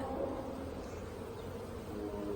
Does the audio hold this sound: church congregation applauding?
no